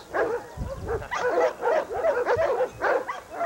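A dog barks and yips in repeated bursts close by, loud and excited, a few short whimpering notes mixed in, with no talk over it.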